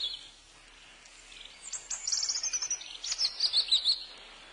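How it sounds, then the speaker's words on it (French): A European robin sings a bright, high warbling phrase, faint at first and then building into a run of quick, rising and falling trills and chirps, heard alone. "Non, c'est le rouge-gorge."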